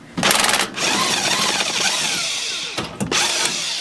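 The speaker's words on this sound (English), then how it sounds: "We're going to release this carrier bearing with these 14mm bolts on either side." A loud power tool whirs close up while backing out the 14mm carrier bearing bolts on a Toyota Tundra driveshaft, running in two sustained bursts separated by a brief pause.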